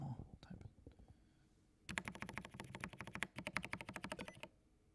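Rapid typing on a mechanical computer keyboard, close and crisp, with dense clicky keystrokes in a sustained burst after quieter scattered taps and faint breathy sounds at the start.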